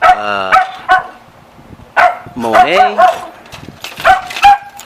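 An excited pet dog barks, yips and whimpers in short bursts close by, mixed with a person talking over the noise.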